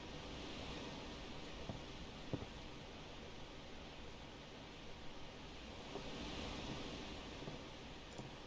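Wind blowing through a Final Fantasy X game scene, a steady broadband whoosh with gentle swells and a few faint soft taps, holding at an even low level throughout with no talking.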